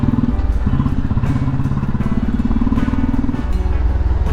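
Motorcycle ridden along a road in Bangalore, its engine a close, continuous low throb with a steady rhythmic pulse, accompanied by rattling and road noise throughout.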